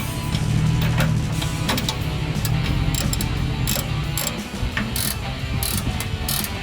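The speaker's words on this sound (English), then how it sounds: "you're probably gonna need a ratcheting 18mm wrench to get in behind these to tighten them up" An 18mm ratcheting wrench clicks rapidly while tightening nuts on a rear bumper being installed on a Jeep Gladiator JT, steady close ratchet chatter in repeated runs.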